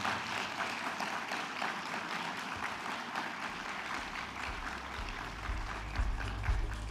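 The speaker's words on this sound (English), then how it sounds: "please just stand up so that you get a round of applause as well" An audience at a Kenya Space Expo and conference applauds Kenya Space Agency staff and board members, a faint, steady patter of clapping from a distance holding for several seconds.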